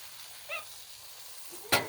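A breakfast sandwich fries on a hot outdoor griddle with a faint, steady sizzle, a brief chirp early on and a louder crackling hiss near the end. No one speaks.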